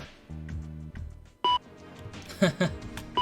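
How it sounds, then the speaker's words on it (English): Electronic beeps of a computer inbox alarm in The Silver Case video game, a few short tonal bleeps over background game music, with a louder burst near the end. "Your alarm has been going off"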